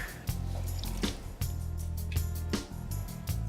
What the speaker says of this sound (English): So we're gonna add 2 cups of water,